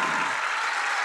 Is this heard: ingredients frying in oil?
no